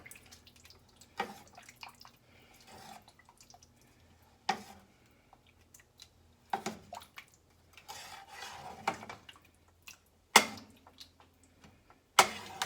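A homemade beef stew is stirred in a pot with sparse, scattered clinks and scrapes of a spoon against the metal, quiet between sharper knocks, with no talking.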